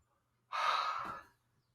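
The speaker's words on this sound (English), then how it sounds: "you reach forward as you yawn in" A single deep, breathy inhaled yawn during a voice warm-up exercise, close and quiet, rising suddenly and fading out after about a second.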